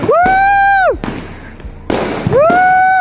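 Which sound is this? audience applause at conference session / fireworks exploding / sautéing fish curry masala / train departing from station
fireworks exploding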